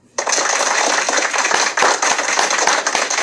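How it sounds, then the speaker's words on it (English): A podcast studio fills with a sudden burst of dense, continuous clapping that starts abruptly and carries on steadily for about three seconds, loud and close. "I gotta give myself a round of applause on that."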